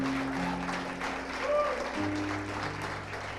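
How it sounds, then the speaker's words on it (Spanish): Church congregation applauding during a Spanish-language worship service, a steady broadband clatter of many hands with a sustained organ or keyboard chord held beneath it. "Denle un fuerte aplauso allí a nuestro Señor."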